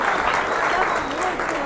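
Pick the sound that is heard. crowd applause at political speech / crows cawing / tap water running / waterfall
crowd applause at political speech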